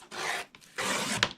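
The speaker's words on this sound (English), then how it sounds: "And then I'll trim away" A paper trimmer slicing off excess paper during a paper craft project: two close, dry rasping strokes, the second longer and ending in a sharp click, with no talk.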